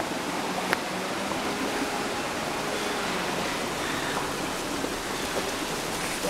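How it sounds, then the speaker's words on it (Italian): Waterfall in a stream gorge near Brenna on the Lago Maggiore side, a steady, dense rush of falling water heard close and continuous with no voices over it. "qua la cascata che abbiamo fatto vedere poc'anzi, col suo bel muschio"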